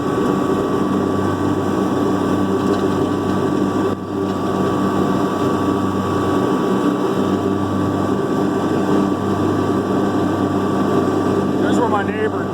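A Kubota B2650 tractor running a front-mounted mower at full throttle, a steady loud engine and blade drone with constant harmonic hum throughout, close and unbroken.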